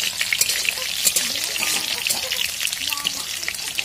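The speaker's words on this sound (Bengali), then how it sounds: "তো কড়াইতে একদিকে আলু ভাজাই চলছে মাংসের জন্য" Potatoes fry in oil in a kadai in a village kitchen, giving off a continuous crackling sizzle with light stirring, close and steady, with some background sounds mixed in.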